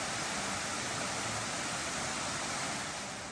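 Glen Falls waterfall in Highlands, North Carolina roars as a dense, steady wash of rushing water, broad and unbroken, heard from a distance along a wooded trail with no voices.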